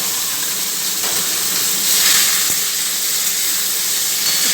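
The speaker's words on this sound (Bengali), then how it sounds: "কচুর শাকটা দিয়ে ফেললাম।" Chopped taro leaves dropped into hot oil in a pan with tempering spices for a vegetarian Bengali dish, giving a steady, close sizzling hiss that holds throughout and swells briefly midway.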